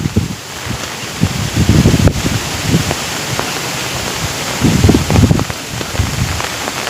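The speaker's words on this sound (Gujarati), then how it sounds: "ફૂલ વાવાઝોડું સાથે છે વરસાદ." Heavy rain lashes down in a strong windstorm outdoors where water has pooled beside a parked motorbike, a loud continuous downpour with gusty surges and rustling bursts, no speech.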